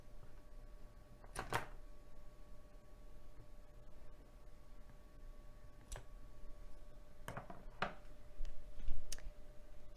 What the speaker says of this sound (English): take your scissors and mindfully cut